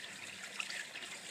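Water from a hose drop fitted with a spinning ball flows into a garden pond in spring, a steady soft trickle and splash, quiet and continuous with no voices.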